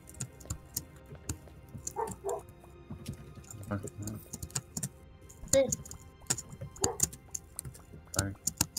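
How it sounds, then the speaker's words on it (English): Several short, sharp dog barks sound at a moderate distance among rapid computer keyboard typing, with people talking over a call during a game. "A dog only barks when I'm in a call."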